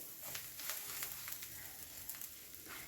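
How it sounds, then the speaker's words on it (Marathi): Buttered pav bread rolls toasting on a hot griddle for pav bhaji, with chili powder and coriander in the butter, giving a soft steady sizzle with faint crackles and no talk. "त्यातच आपल्याला पाव छान भाजून घ्यायचे"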